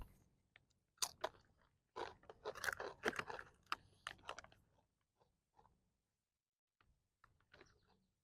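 Close, crunchy bites and chewing of ketchup-flavoured crisps, loudest in a dense run of snaps and crackles early on, then sparse, quieter munching with pauses and no talk.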